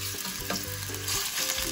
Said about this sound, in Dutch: Dit gaan we even 10 minuten lekker bruin en krokant bakken.